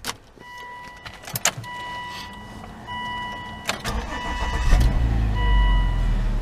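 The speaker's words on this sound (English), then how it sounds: "So let's start it up." A 2013 Volvo XC90 3.2 R-Design starts up: chimes and clicks in the cabin, then the engine catches near the four-second mark and settles into a steady, close idle rumble.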